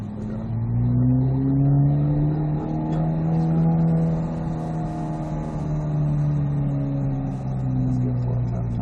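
Engine drone fills the cabin of a car lapping the Road Atlanta track, with a steady loud hum and slowly rising and falling pitch as it accelerates, with no voices.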